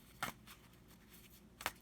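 Oracle cards from the Lumen Threads of Fate deck shuffled in two brief riffling bursts, one near the start and one near the end, quiet and close with faint room noise between.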